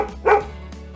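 A dog gives one short, clear bark close by, alone against a faint background hum.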